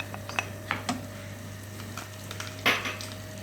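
Spoon stirring an okra, chickpea and meat dish with tomato paste in a pot, giving sparse clinks and scrapes over a steady hum and faint sizzle.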